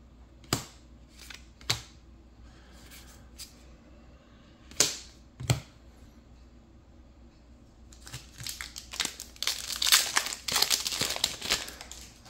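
Crinkling foil wrappers and shuffled cards as Duskmourn trading card booster packs are opened, a few sharp isolated snaps early, then a dense, close rustle of tearing and handling toward the end.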